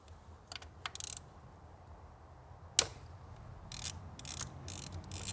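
A ratchet works loose bolts on engine bracketry of a 2014 Nissan Maxima 3.5, heard as close, faint bursts of quick clicking with one sharp metallic snap midway, separated by quiet pauses.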